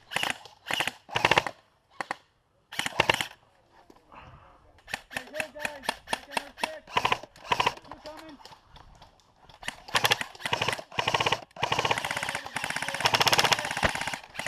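A Classic Army Mk22 Commando airsoft rifle fires BBs through brush on an overgrown outdoor field, with rapid clattering bursts of shots, brief pauses and long sustained strings near the end, loud and close.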